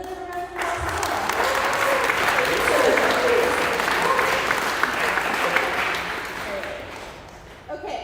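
A conference audience in Toronto breaks into sustained applause, a broad, full crowd of clapping that swells after a moment, holds steady, then fades near the end, with a voice speaking briefly over it.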